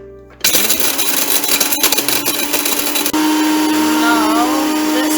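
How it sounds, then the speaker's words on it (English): A loud, steady motorized whir starts abruptly after a brief pause and runs continuously, shifting pitch partway through as the blender blades grind dry garam masala spices. "Now we will put all of the garam masala inside of the blender."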